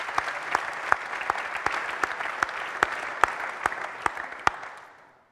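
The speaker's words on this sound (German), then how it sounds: "Ihr Applaus." Audience applause welcoming a panelist at a panel discussion on defence policy, steady hall clapping with a few sharper individual claps standing out, fading away at the end.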